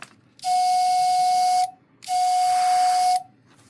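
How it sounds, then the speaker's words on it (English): Two sustained high whistling tones from a Harbor Freight Black Widow dual air compressor while spraying, each over a second long with loud hissing air, separated by a short pause. "it makes this horrendous whistling noise while you're spraying"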